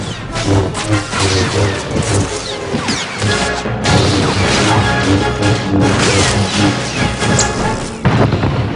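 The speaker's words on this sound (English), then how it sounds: "the trooper hits Iron Fist with a cryo grenade" A cryo grenade strikes in the Star Wars: The Old Republic game, a loud, dense burst of crashing, booming impacts and whooshes layered over continuous battle noise, with a sharp renewed hit near the end.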